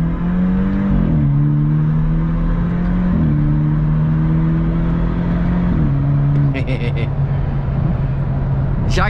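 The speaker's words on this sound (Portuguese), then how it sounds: "Vamos dar uma acelerada." A BMW 320i Sport's engine drones loud and close, its pitch stepping down in several distinct jumps over the clip, with a brief high chirp near the end.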